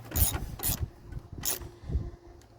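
A ratchet tightening the battery hold-down bolts on a Fiat 500 Abarth, giving several close, rhythmic rasping clicks in short repeated strokes.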